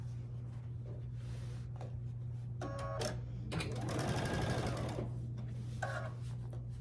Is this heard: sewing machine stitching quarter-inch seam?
yes